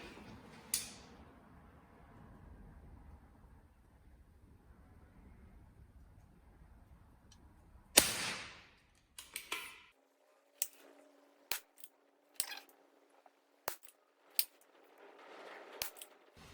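A Weihrauch HW40 air pistol fires pellets in a quiet room, about half a dozen sharp, short cracks spaced a second or so apart, each followed by faint mechanical clicks.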